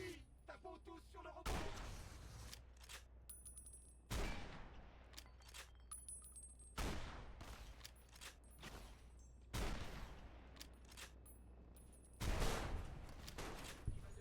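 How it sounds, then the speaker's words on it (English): Heavy .50 caliber rifle shots in the video game Fallout New Vegas, about six booming blasts spaced a few seconds apart, each with a long rumbling tail, with lighter game sounds between them. "Eight 50 cal shots."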